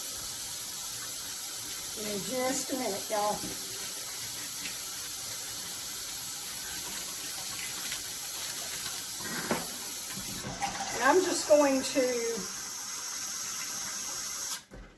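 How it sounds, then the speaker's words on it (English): Water runs steadily from a kitchen tap into a pot as a soft, constant hiss through the whole stretch, while someone speaks briefly over it. "let me get some water together here and pour it in the pots"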